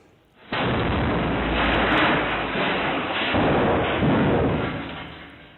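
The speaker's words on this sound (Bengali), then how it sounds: "বন্ধ ক্লাবে বিস্ফোরণ" A bomb blast inside a closed club room erupts suddenly as one loud, broadband roar that stays dense and sustained for several seconds before slowly fading, caught by a CCTV camera.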